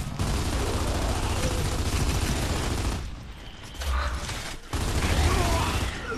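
A frag grenade explosion in the shooter Gears of War 2, a loud noisy blast set among continuous gunfire and clanking battle noise, with brief dips before the din returns.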